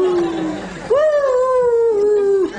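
A human voice imitates dogs howling at the full moon, a long rising-and-falling wail held for about a second and a half after a brief lower vocal lead-in, close and loud.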